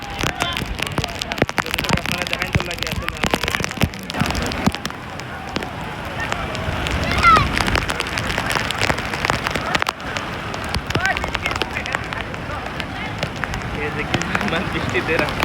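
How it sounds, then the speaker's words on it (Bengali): Heavy rain pours at Sugandha Beach in Cox's Bazar, a dense, continuous hiss and patter drumming close by while a person talks over it. "বাট প্রচুর বৃষ্টি"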